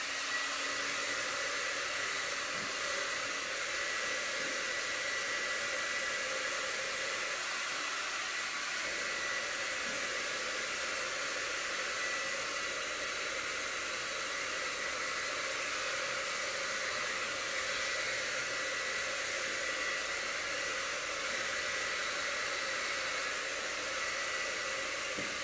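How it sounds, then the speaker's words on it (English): Steady, loud whooshing roar of a hair dryer blowing on wood freshly coated in Annie Sloan chalk paint, continuous and unbroken for the whole stretch with no talking. "So I'm gonna shoot it with the hairdryer again real quick"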